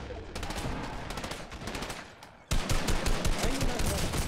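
Rapid gunshots from a Fortnite firefight, a burst of sharp cracks that fades out before a louder, denser volley starts abruptly, with faint talk mixed in.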